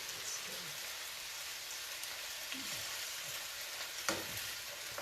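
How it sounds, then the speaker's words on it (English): Steady sizzling of chicken pan frying, a constant crackling hiss with a few small clinks and stirring sounds, close by. "Okay, so it's pan frying,"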